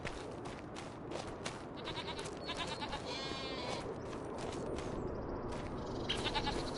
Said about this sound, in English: Goats and sheep are doing okay.